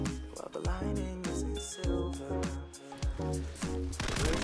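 Rapid bursts from an MP7 submachine gun in Modern Warfare 3, loud and close, with several quick volleys of crisp shots separated by brief pauses and mechanical clacks.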